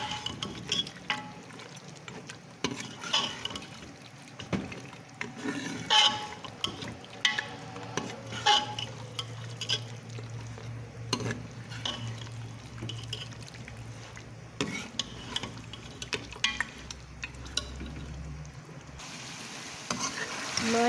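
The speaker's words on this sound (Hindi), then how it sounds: "इसको अब भूने, इसको अच्छी तरह भूनेंगे।" Palak gosht, spinach and mutton, is stirred and fried in a pot as a soft, continuous sizzle with irregular scraping and clanking strokes of a spoon against the pot, fairly close and quiet throughout.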